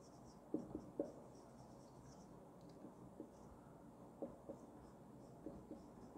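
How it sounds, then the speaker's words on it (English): Pen writing a formula by hand on paper, faint soft scratching strokes in small scattered clusters over a quiet room hum. "So first of all, I'll write the formula."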